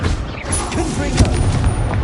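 A Confringo fire spell bursts in Hogwarts Legacy, a booming blast in the middle of constant battle noise, with a voice shouting spell names over it.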